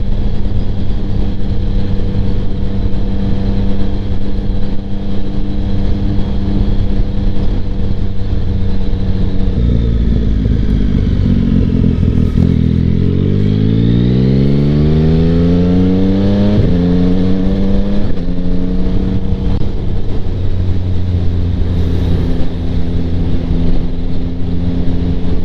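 A 2025 Yamaha MT-09 fitted with a Kelpi Flanker exhaust rides continuously at close range, its loud, steady engine drone climbing through a revving acceleration midway before settling back to a steady cruise, with wind noise throughout.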